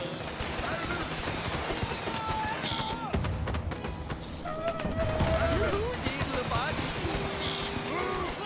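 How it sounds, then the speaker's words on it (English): Cannons and gunfire boom in volleys during a battle in the video game Totally Accurate Battle Simulator, with dense clattering shots and game effects, loud and continuous, while a voice talks over the fighting. "Fire the cannons!"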